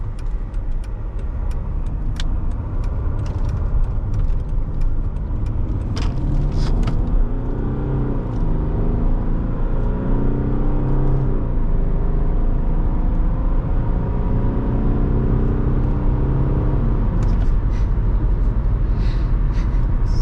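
A 2007 Mercedes E320 BlueTec diesel car drives steadily, with a continuous loud low rumble from the engine and road. Gentle rising and falling engine tones come through as it accelerates, and no one speaks.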